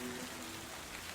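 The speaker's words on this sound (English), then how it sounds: "it's raining right now" Rain falls steadily outdoors, a faint, even hiss of drops with no other sounds over it.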